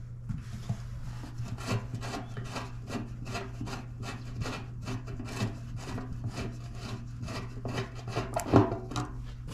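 A screwdriver turning out screws from the vacuum petcock of a Suzuki Bandit motorcycle, a steady series of short scraping, ratchety rubs close up, repeating rhythmically for several seconds with a faint hum underneath.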